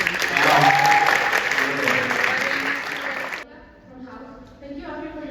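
An audience at a regional youth parliament conference in Oviedo applauds loudly for about three seconds, the clapping then dropping away abruptly into a quieter room.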